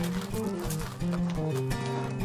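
A horse moving at a walk, its hooves clip-clopping in a quick uneven rhythm, close and clear against a steady background.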